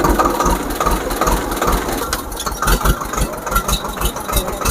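A tractor engine idles close by with a steady low, throbbing chug that runs without a break, with no clear voice over it.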